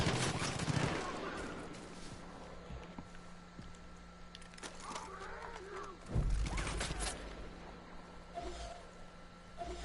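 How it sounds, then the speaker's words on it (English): Enemy sniper fire in the Far Cry 5 video game, with scattered sharp shots and clattering game effects over a steady low hum, and voices talking intermittently throughout. "When the sniper hit me, they were shooting from above."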